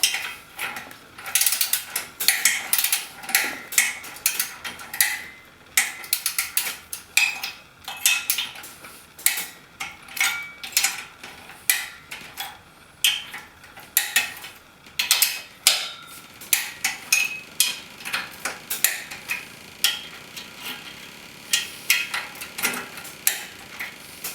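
Rapid, irregular metallic clicking and ratcheting from a torque wrench tightening bolts on a Rotax 503 snowmobile top end goes on steadily up close, with sharp clacks in bursts and no voices.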